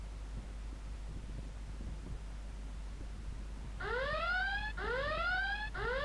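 A laptop's pattern-lock alarm goes off after three wrong attempts: after a few seconds of quiet hum, a loud electronic siren starts, with rising whooping sweeps repeating in quick succession until the end.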